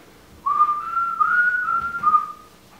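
A single person whistling a short tune, one clear sustained melodic line with a few small pitch shifts, close and alone against a quiet background for about two seconds.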